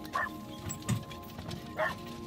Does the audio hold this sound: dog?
yes